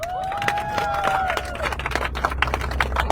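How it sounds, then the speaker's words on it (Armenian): An audience claps for a DJ, a crowd's scattered hand claps rattling along at moderate volume through a hall with a faint tonal hum early on. "Արժի որ գնահատեք մեր DJ-ի երեկվա աշխատանքը ծափերով"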